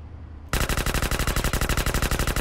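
Rapid automatic gunfire from a weapon in the video game GTA San Andreas, a loud, fast, even burst of about twenty shots that starts suddenly after a brief quiet moment and runs without pause.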